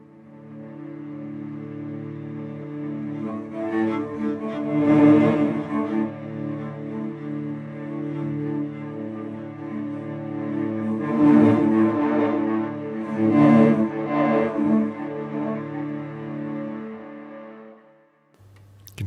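Felt Instruments Blisko Strings, a sampled string instrument played with heavy echo, sustained tones swelling and decaying with repeating trails across the whole passage, no voices.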